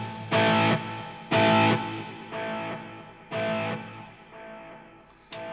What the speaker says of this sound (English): there's delay. Obviously 2000 milliseconds